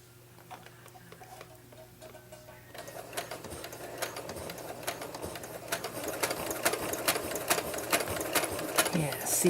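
Sewing machine stitching across a potholder to secure ends underneath, a steady fast mechanical chatter of the needle that starts softer and grows louder and denser, with faint ticking and low hum throughout.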